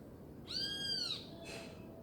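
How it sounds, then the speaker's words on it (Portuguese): A small bird gives a single faint, drawn-out whistled call with a slight downward bend, followed by a brief soft rustle against quiet outdoor background. "O passarinho continua."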